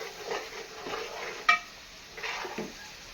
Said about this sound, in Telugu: అంతా కలిసేటట్టు మిక్స్ చేసుకోవాలి. పసుపు కూడా వేసుకోవాలి.